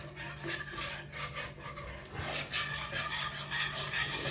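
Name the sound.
whisking milk into pasta sauce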